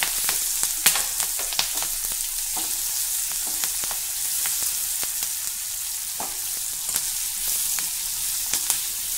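Green chillies crackling in hot oil with lightly softened garlic, a continuous loud sizzle dotted with frequent sharp pops and spatters, close up and without voices.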